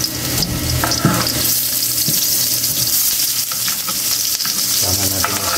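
Onions sauté in a hot pan, giving a dense continuous sizzle with occasional scraping strokes from a stirring utensil, loud and close throughout.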